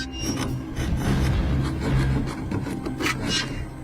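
Video game sound of harsh, continuous rasping of a blade sawing through metal prison bars, loud and close, with rhythmic scraping strokes throughout and no talking.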